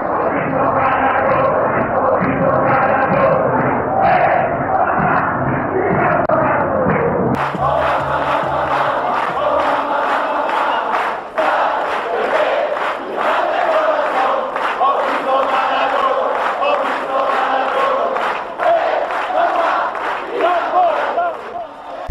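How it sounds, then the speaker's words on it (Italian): Football fans in the San Paolo stadium in Naples roar and chant together as one loud, dense, continuous crowd sound with no break. "Maradona viene presentato al San Paolo, un catino ribollente di tifosi inneggianti, padri di famiglia, bambini in delirio"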